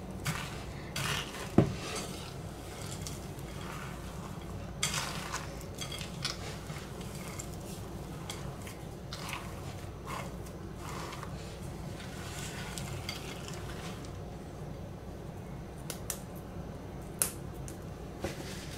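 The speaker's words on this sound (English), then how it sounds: "Just want to stir that in." Stirring a chocolate chip cookie dough mixture in a bowl, with soft repeated scraping and occasional light clinks of a utensil against the bowl, quiet and close with no talking.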